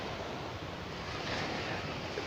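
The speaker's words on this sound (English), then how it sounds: "it's just the waves sort of lapping up on the beach" Gentle waves lapping up on a beach, a continuous soft wash of surf with a faint breezy hiss, even and unbroken, with no voices.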